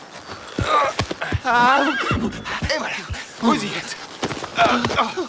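A horse whinnies loudly nearby amid clip-clopping hooves, while people speak briefly around it.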